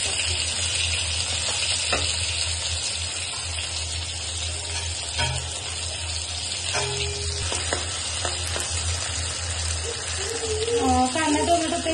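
Onion-tomato paste fries in hot oil with a dense, continuous sizzle and occasional stirring scrapes for a chicken rassa. A voice talks intermittently over the sizzle.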